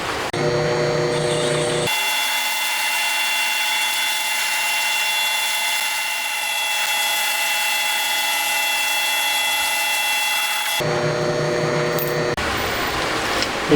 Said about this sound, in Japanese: あとは突っ切りで切れば OK ですね。